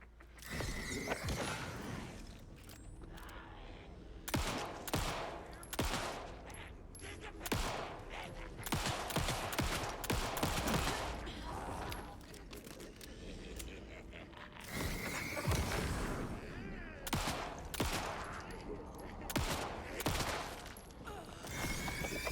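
Rapid gunfire against cultists in Alan Wake 2, dense irregular volleys of sharp shots and clattering mechanical reloads filling the whole stretch, loud and close throughout.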